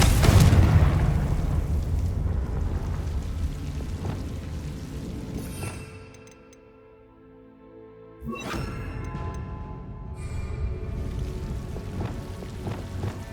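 A Confringo fire-blast spell in Hogwarts Legacy, a loud rumbling explosion that fades into a quiet lull before a second sharp burst and another long roaring rumble, close and full, with no talking.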